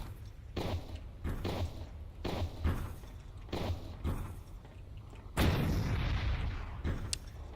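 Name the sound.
explosions in a video game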